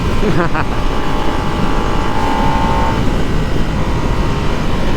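A 2025 Harley-Davidson Nightster's engine drones loud and steady while riding, with heavy wind rush throughout and a rising tone as it accelerates.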